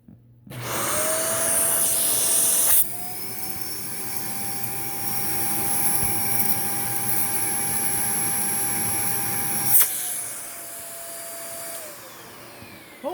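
Shark Ultra vacuum cleaner running through a suction test, a loud steady motor whine with a high pitched tone, starting abruptly, shifting pitch once as the load changes, then spinning down at the end.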